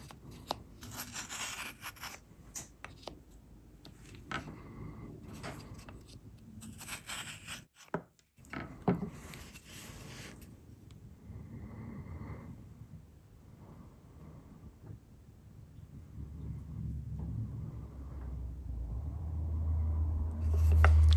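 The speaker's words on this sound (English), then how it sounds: "That's quite a heavy cut, that knife." Marking knife scoring a line across the wood grain, a series of short, faint scraping and cutting strokes in a quiet workshop, with a heavier rumbling handling sound building toward the end.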